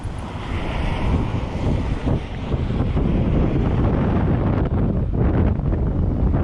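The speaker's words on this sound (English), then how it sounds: "there's a lot of wind" Strong wind buffets the microphone while riding an e-bike outdoors, a steady loud roar and rumble with gusting swells throughout and no talking.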